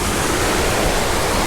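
A small waterfall in Shenandoah pours into a pool at its foot, making a loud, steady, dense rush of falling water that fills the whole moment, heard close with no other sound.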